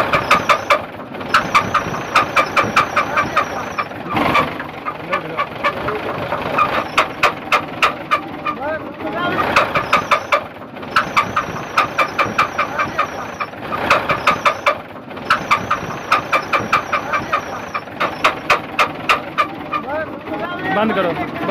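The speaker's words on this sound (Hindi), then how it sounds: "तो अभी हम इसको स्टार्ट करवाएंगे। चलें जी, करें स्टार्ट, करें चेक करवाते हैं।" A UD Nissan CD truck's PF6 six-cylinder diesel engine, fault under investigation, cranks and starts repeatedly, bursts of rough knocking idle separated by brief stops, loud and close.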